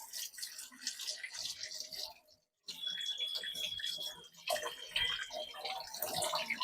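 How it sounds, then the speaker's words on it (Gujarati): Potato pieces washed under water for a steamed potato dish: running tap water and splashing with handling noises, moderately loud, briefly broken by a short silence. "સરસ એવા પેલા પાણીથી ધોઈ લેશું."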